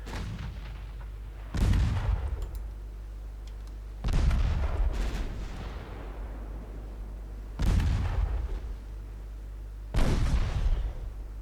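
Six-inch battleship guns fire in four heavy, booming salvos spaced a few seconds apart, each with a deep rumbling tail over a steady low engine drone, from a naval battle in the game Ultimate Admiral Dreadnoughts.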